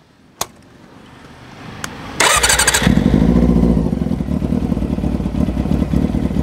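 A 1990s Honda CB400 motorcycle engine cranks with a couple of clicks, catches, then settles into a loud, close, uneven idle, with no talking.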